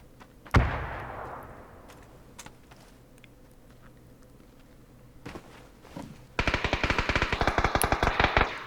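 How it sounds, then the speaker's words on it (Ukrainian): A single loud shot with a decaying tail, scattered clicks and steps, then a rapid burst of automatic gunfire, close and loud, in PUBG on the Erangel map. "Що він тут стріляє?"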